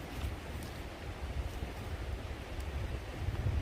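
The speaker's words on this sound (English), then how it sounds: "A little windy out today." Wind gusts outdoors rumble against the microphone in uneven surges while food is prepared in the open air, steady and fairly faint throughout.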